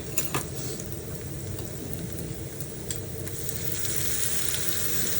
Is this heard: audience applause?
no